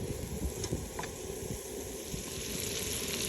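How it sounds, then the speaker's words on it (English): Bacon frying in olive oil in a pot over a camp stove, a steady close crackling sizzle with dense popping throughout and no talking. "Okay, the bacon's cooking up nicely."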